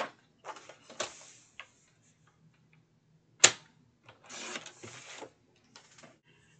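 Paper cut to size on a trimmer for a handmade card, with the sheet's 8.5-inch side cut at 4.25 inches: a few crisp, short cuts and slides, one sharp loud snap near the middle, close and quiet, no talking.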